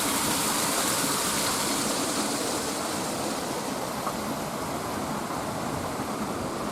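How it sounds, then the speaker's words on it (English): Water spills slowly from a sluice into a babbling brook, giving a constant broadband rush that stays even throughout, near and moderately loud, with no talking. "the water is allowed to feed very slowly"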